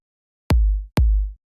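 A dry progressive house kick and bass from FL Studio, unprocessed, lands as two deep, booming thuds in quick succession, each with a sustained low tail, isolated in silence.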